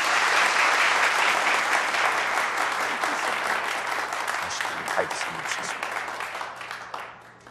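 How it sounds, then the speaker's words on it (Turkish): A studio audience bursts into loud, dense applause that holds strong, then gradually thins and fades out near the end, with no talk over it. "Lütfen alkışlar mısınız?"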